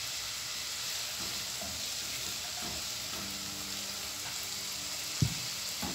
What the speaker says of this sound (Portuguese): Aí, agora eu vou colocar o molho aqui, ó.